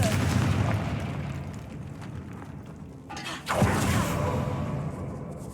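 A Confringo fire spell in Hogwarts Legacy bursts with a rumbling blast, then a second sharp whooshing impact hits and decays over rolling low noise.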